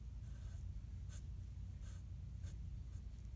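An ink pen scratches across a comic book page in a few short, crisp strokes, spaced roughly half a second apart. The strokes are close and quiet over a low background hum, with no talking.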